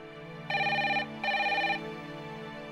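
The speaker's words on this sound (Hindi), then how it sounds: "अरे सनका देवी फोन उठाओ।" A telephone rings twice in two even electronic bursts over a steady background hum, with no one speaking.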